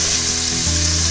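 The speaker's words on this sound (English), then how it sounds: "Okay, so the frying has subsided." Alligator ribs fry in hot oil with a loud, steady, close sizzle that fills the whole moment without any voices.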